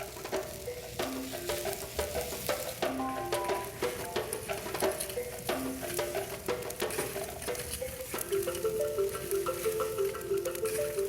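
Steaks cook over glowing embers on a grill, giving a soft, continuous sizzle and crackle underneath a light melodic music bed.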